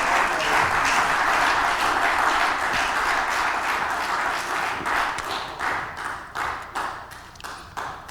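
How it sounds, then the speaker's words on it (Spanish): Church congregation applauding during a sermon, sustained warm clapping that thins out toward the end into scattered, separate claps. "Dele un aplauso al Rey con todo su corazón."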